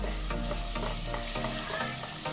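Garlic frying in a hot pan, a steady close sizzle with repeated scraping stirs cutting through it, no voices.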